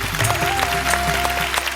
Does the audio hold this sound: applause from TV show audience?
yes